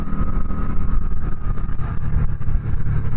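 A Harley-Davidson Night Rod Special V-Rod motorcycle engine pulls steadily under throttle while cruising up a highway, with a continuous close, loud drone and wind noise.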